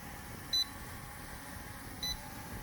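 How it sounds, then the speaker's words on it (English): DEERC D65 drone giving two short electronic beeps about a second and a half apart in return-to-home mode, faint and thin over a steady low background hum. "it's just beeping"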